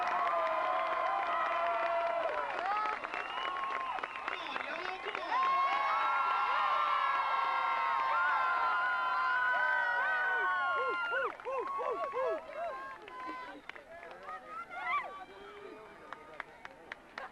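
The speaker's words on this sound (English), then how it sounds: "a big round of applause, please." A large audience in Daingerfield, Texas cheers, whistles and applauds loudly and continuously for Rodney Dangerfield, with scattered shouts, before the noise gradually thins out toward the end.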